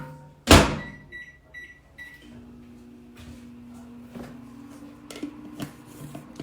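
A microwave oven starts with a sharp door thunk, then beeps briefly before settling into a steady low hum that runs for several seconds, close by, with faint clatter over it.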